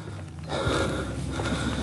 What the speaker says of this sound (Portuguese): vocês estão vendo aí a respiração.